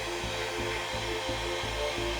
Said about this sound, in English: It's better to use a heat gun or a hairdryer just to warm up the skin slightly.